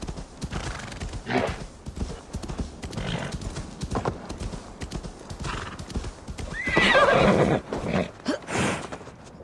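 Hooves clip-clop in steady irregular steps from a horse in Assassin's Creed Valhalla on Xbox Series X, building to a loud, close whinny near the end amid snorts and shuffling.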